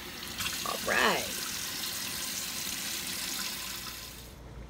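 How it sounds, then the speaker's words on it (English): Tap water runs steadily into a kitchen sink while collard greens are washed, with a brief splash and clatter early on, then the flow cuts off at the end. "I'm going to finish washing these greens here"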